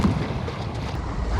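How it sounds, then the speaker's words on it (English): Wind buffeting a Mirror 16 dinghy sailing at sea in a breeze of force 4 gusting 5, a steady rushing roar with water noise and no voices. "The wind is, you know, I'd say it's picked back up again."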